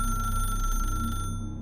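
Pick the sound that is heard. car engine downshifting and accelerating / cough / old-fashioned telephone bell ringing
old-fashioned telephone bell ringing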